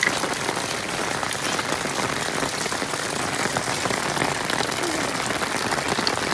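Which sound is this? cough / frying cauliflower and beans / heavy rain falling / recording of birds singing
heavy rain falling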